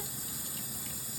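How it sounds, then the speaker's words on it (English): A baby doll's body being rinsed and swished around in a basin of bleach water, a steady close sloshing and trickling of water with no pauses. "this is just me rinsing and swishing it around in the water."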